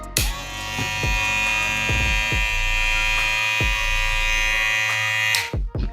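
Kemei KM 2288 hair clipper running close up with a loud, steady electric buzz and hum, interrupted by a few light handling knocks, then switched off abruptly near the end.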